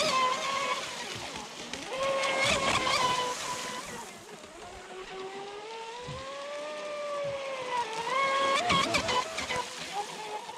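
A small motor whines and rises and falls in pitch as a Pro Boat Sonicwake 36 RC bash boat speeds across water, with splashing bursts along the way.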